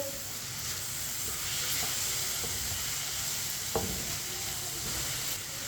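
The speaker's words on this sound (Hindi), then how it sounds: "अब 2 मिनट के लिए पका लेंगे शिमला मिर्च और पत्ता गोभी को।" Capsicum and cabbage sizzle steadily in a hot pan for chicken macaroni, a continuous close frying hiss with faint clicks of stirring and no talking.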